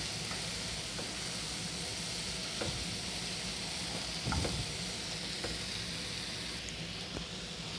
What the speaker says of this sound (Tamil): இந்த கேரட் கொஞ்சம் பச்சை வாசனை போகிற வரைக்கும் வதக்கிக்கலாம்.